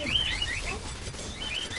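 Several small ordinary pet birds, not parrots, chirping loudly indoors: thin, high tweets and short whistles scattered over a steady noisy background, fairly close.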